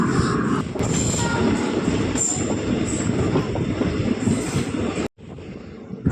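A train rumbling along the rails with a steady roar and rattling clatter, loud and close, briefly cutting out near the end.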